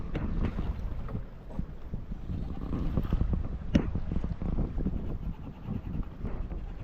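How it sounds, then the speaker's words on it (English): A sailboat running dead downwind under full sail off the Galician coast of Spain, with steady wind rumble and water wash and irregular soft flapping and thumps from the loose foresail, close and continuous. "full sail, running dead downwind, foresail's dancing around as it tends to do when we're dead downwind"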